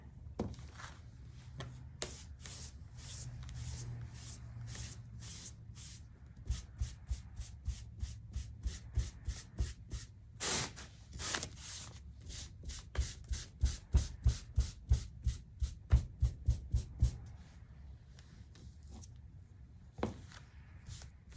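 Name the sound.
paintbrush painting second coat on a mitten ornament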